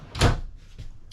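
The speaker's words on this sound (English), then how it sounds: "You open the cabinet and then here's your drawer." Cabinet door opening inside a 2023 Rockwood Ultra Lite 2608BS travel trailer, a single close wooden knock-and-clack followed by a couple of softer rattles as it settles.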